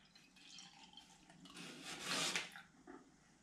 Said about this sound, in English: I'm going to take my kettle, which I have filled with cold water, and I'm going to fill up the jar.